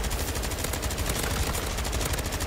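Rapid automatic ray gun fire in MW3 Zombies rattles continuously and loudly for the whole stretch, a dense unbroken burst of shots with no talking over it.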